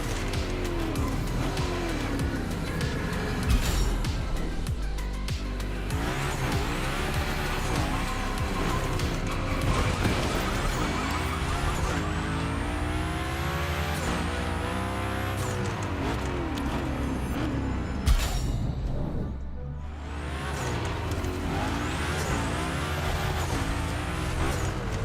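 A Mitsubishi Lancer Evo 9 in a racing video game, its engine revving hard and continuously with rising and falling pitch through gear changes, tires squealing in skids, loud and close throughout.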